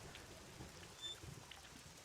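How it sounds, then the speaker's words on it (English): Rain falls in the video game The Lost Crown, a faint, soft patter of drops with a low rumbling wash beneath, steady and distant throughout. "It's just very slow rain."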